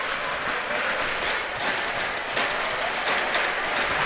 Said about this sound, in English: The Avenue crowd is making some noise